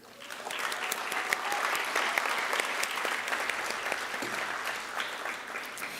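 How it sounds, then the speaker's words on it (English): Concert audience applauding a senior clarinet player at a school band concert, a steady round of clapping in a hall that swells and holds for several seconds before tapering off. "You can go ahead and give them a round of applause after I call their name"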